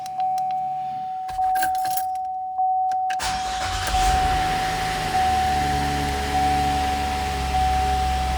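A 2014 GMC Acadia engine idles steadily with a low rumble, preceded by some clicks and jangling, plus a steady high whine throughout.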